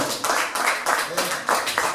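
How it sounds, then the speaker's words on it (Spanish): Rhythmic hand clapping from a church congregation during a Spanish-language worship service, steady beats of about four claps per second, fairly close, with voices mixed in. "Dele palmas al Señor."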